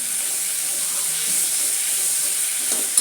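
Vegetable pulao ingredients sauté in a pan with a constant loud hiss and sizzle that holds steady throughout, close by with no talk over it.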